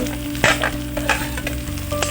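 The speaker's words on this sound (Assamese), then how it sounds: "তেলত ভালকৈ ফ্ৰাই কৰাৰ পিছত মই অলপ ঢাকি সিজাই ল'ম মাংসখিনি" Local chicken meat frying in hot oil in a pan, a steady close sizzle with a few stirring scrapes, no talking.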